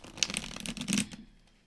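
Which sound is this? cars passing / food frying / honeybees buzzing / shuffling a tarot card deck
shuffling a tarot card deck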